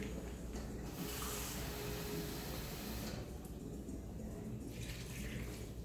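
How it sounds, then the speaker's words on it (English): Two cups of water pour steadily into a cooking pot, a continuous hissing splash that runs the whole time without pause. "I'm going to put 2 cups of water."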